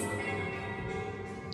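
The lighthouse bell at Calella rings out with a sustained metallic tone that hums and slowly decays, heard up close with no talking.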